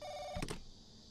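A telephone rings inside the horror game The Crooked Man: a short electronic tone, then two bursts of a bell-like ring, heard close and fairly quiet, with no talking.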